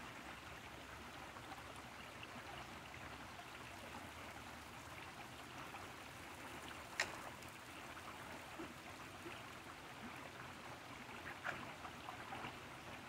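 Water runs and splashes steadily through a gold prospecting flume outdoors in North Carolina, a continuous moderate stream-like rush with one brief sharper splash partway through and no talking.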